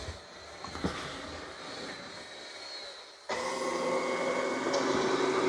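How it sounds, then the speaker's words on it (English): An Ecovacs T80 robot vacuum and mop starts up with a sudden rise to a steady broadband whirring hum, following a quieter stretch of background noise. "It's vacuuming and mopping."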